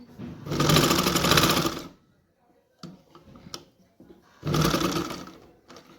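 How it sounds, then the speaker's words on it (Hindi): Sewing machine stitching around a shirt collar: two loud, steady whirring runs of fast stitching separated by a quiet pause with small clicks and handling noises, close up. "कॉलर के चारों तरफ सिलाई लगाते हुए जाना है"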